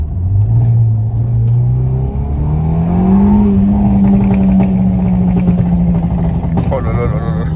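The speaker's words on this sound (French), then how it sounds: "vous allez voir que le son, quand on roule, est très différent de l'échappement de tout à l'heure" Ford Fiesta ST rally car driving on a public road, its engine droning loudly and rising in pitch as it accelerates, with turbo whoosh and exhaust pops near the end; steady and close throughout.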